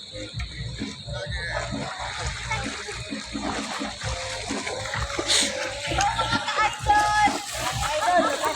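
Someone bathes in the sea, with water splashing and trickling in uneven bursts that grow louder toward the end while people talk nearby.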